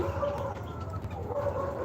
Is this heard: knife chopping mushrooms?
no